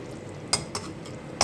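A spoon clinks a few times against a pot while a potato and spinach curry is stirred; the taps are brief, light and close, separated by quiet pauses.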